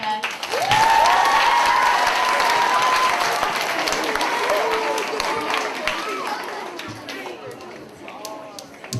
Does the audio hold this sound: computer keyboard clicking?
no